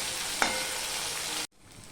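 Ginger and tomato fry in a pan while being stirred, a steady close sizzle with a single scrape of the spoon, cutting off abruptly near the end to a quieter hiss.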